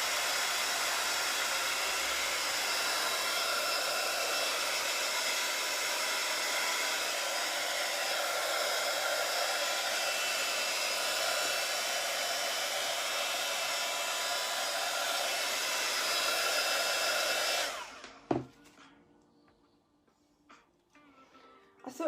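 A hair dryer blows steadily and loudly at close range over a journal page for about seventeen seconds, then switches off, leaving near silence and a few small handling knocks.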